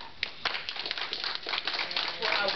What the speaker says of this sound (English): And I just want to ask you all to give these babies another hand clap